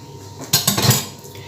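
A spoon clinks and scrapes against a plate while yogurt is scooped in for a chicken marinade, a short cluster of close, bright metallic taps lasting under a second.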